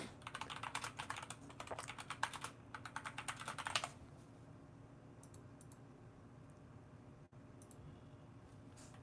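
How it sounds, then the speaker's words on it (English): Song titles are typed on a computer keyboard in a rapid, close run of clicking keystrokes for several seconds, then the typing stops and only quiet room hiss remains, with a few faint later clicks. "I'm just typing them in"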